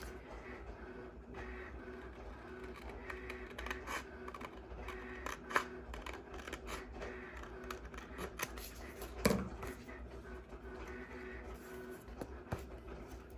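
Scissors snip through a printed paper design meant for an epoxy tumbler, a faint sequence of small crisp cuts and rustles spread irregularly across a quiet room, with a couple of sharper clicks.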